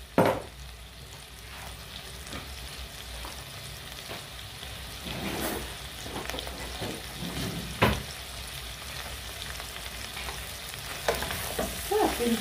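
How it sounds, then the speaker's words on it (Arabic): A hot pepper mixture fries in a pan with a steady, loud sizzle. Stirring scrapes and knocks come through at irregular moments, and a few sharper clatters stand out near the end. "مره نحرك حتى يتبان ليا هذا الخليط"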